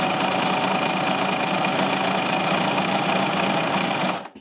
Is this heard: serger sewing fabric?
yes